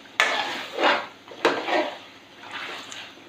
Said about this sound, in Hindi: अभी सिर्फ 1 मिनट के लिए हम और इसको भूनेंगे।